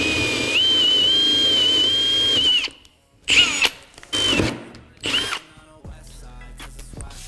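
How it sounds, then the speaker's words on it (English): Power drill boring holes into a plywood cornhole board: a steady high whine for a couple of seconds, then several short bursts of drilling separated by pauses, close and fairly loud, with no speech. "I'm gonna drill those holes right now."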